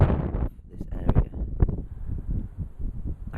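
Strong gusty wind buffets the microphone high on Camelback Mountain near Scottsdale, Arizona, a loud low rumble that surges and fades throughout, with a voice briefly audible beneath it.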